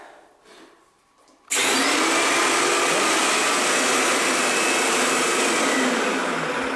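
A Wagner Control Pro 250M paint sprayer switched to prime, its pump starting abruptly after a quiet moment and then running with a loud, steady mechanical whir and hiss close by.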